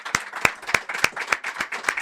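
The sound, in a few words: audience applause for a guest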